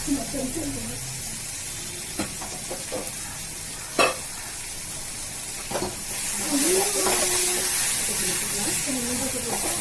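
Ground masala paste sautéing in a pan after coriander powder, a steady sizzle with occasional stirring scrapes and clinks, hiss growing louder toward the end.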